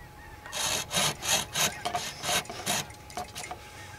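A Kershaw Taskmaster saw cuts through a green poplar branch about 1.5 inches thick, giving a steady run of roughly eight close, rasping push-pull strokes with no talking.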